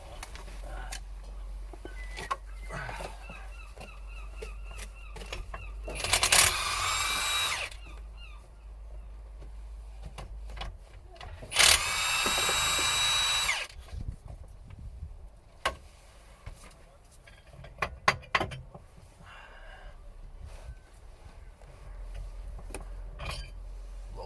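Power tool undoing the bolts on a car gearbox mount: two loud sustained bursts separated by quieter clicks and handling noises, then short rattling spurts in a workshop.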